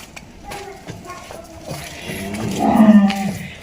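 A water buffalo gives a low, drawn-out moo near the end, close by, with voices and shuffling farmyard noise around it.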